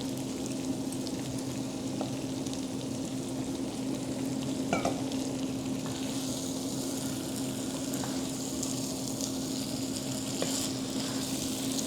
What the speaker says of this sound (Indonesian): Sekarang kita masukkan udangnya.